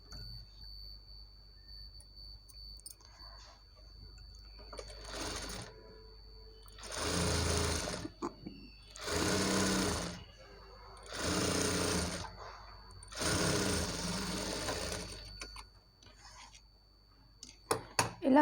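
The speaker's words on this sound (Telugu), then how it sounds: "దీన్ని డబల్ ఫోల్డింగ్ మీద ఒక స్టిచ్ పెడుతున్నాను." Sewing machine running in four separate bursts as it stitches a double-folded strip of blouse cloth, each run a steady whirring hum lasting a couple of seconds, close and loud, with quiet pauses between.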